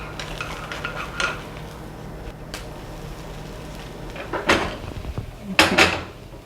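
Mini gimbap flipped in an oiled frying pan over medium heat, giving a couple of sharp metallic scrapes and clatters of a utensil against the pan, the last pair louder, over a low steady background.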